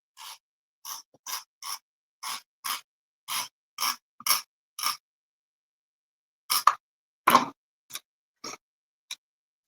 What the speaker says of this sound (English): Just going to use some repositionable tape here.